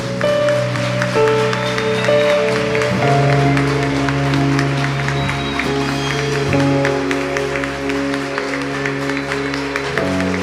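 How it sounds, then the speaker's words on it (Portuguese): A church congregation applauds together at a Brazilian service, the steady clapping mixed with sustained organ-like music that carries on throughout. "vamos aplaudir essas pessoas, irmãos"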